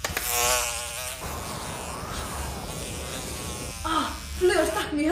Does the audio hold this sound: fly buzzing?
yes